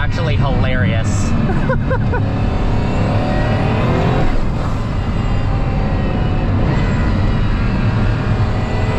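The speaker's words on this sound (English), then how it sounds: "Man, the turbo noises are actually hilarious" A Pagani Huayra Roadster's engine roars loudly and continuously while driving, with turbo whooshes and chirping flutter sounds rising over the dense mechanical drone and road rumble, and a voice speaking underneath.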